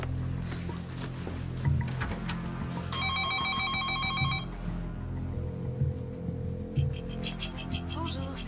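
A telephone rings unanswered in a dramatic thriller film: a short burst of bright, repeated ringing rises mid-scene over a low, steady background bed.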